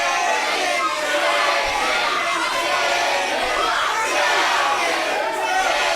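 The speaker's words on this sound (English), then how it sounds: "this crowd starting that chicken chant" A live wrestling crowd in an arena keeps up a loud, continuous chant of massed voices, a dense roar of shouting that never drops out.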